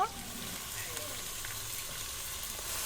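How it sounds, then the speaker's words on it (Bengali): Mixed vegetables and leafy greens sauté in a pan with a soft, steady sizzle and occasional stirring scrapes, fairly quiet and continuous throughout. "সবজি কষিয়ে নিচ্ছি শাক কষিয়ে নেব"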